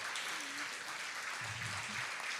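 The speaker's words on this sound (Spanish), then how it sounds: "Damos un aplauso al Señor." A church congregation applauds during a Spanish-language service, a faint, steady wash of clapping heard from a distance, with a brief low murmur of voices partway through.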